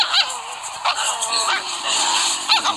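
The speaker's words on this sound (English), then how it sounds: "Oh, that was a dog?" Short yips and whimpering cries from a dog come in a few brief bursts, close and fairly clear over a light background hum.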